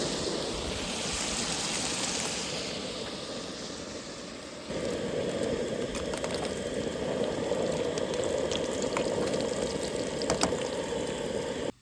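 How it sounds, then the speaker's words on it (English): Potatoes boil in a big pot on a camp stove, giving a steady close rolling bubble and hiss that rises and fills out partway through, with no talking. "for our potatoes to boil"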